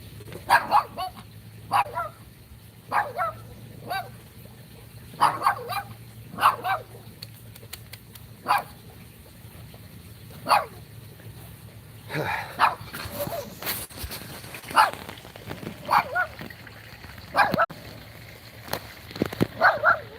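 A dog barks on and off throughout, giving sharp single woofs and short bursts spaced a second or two apart against a low, steady background hum. The barking grows busier toward the end.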